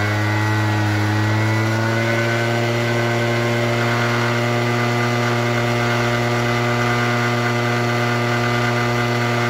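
A Peugeot Vivacity scooter engine runs in a steady, even drone with gentle rises in revs during break-in, close and loud with no talking over it.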